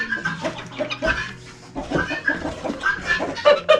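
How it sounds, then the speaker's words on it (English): Laying hens in a mixed farm pen cluck and chatter close by in uneven, overlapping bursts, with several birds calling at once and no human voices. "A bunch of laying hens that we just use those eggs for our own purposes."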